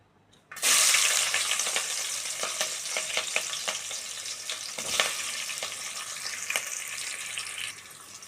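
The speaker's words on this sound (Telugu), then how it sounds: "ఆయిల్ వేడెక్కిన తర్వాత ఉల్లిపాయ పచ్చిమిర్చిని వేసుకుంటున్నాను" Sliced onion and green chillies hit hot oil with a sudden loud hiss that settles into steady, close sizzling, broken by a few sharp crackles and clinks from stirring.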